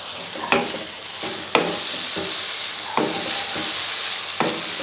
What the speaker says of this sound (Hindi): अब हम इसमें टमाटर डालकर मिक्स कर लेंगे।